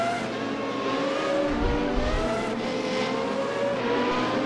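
Formula racing car at the Hungaroring in the RaceRoom video game, a loud continuous engine whine with low thumps from bouncing over kerbs midway, running alone without talk.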